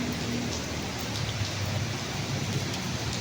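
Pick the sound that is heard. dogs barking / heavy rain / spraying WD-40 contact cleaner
heavy rain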